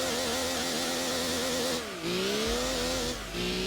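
A light, 617-horsepower race car in Gran Turismo 2 on PS1 revs with a high, buzzing engine note that climbs steadily, drops briefly at gear changes, then rises again, loud and alone.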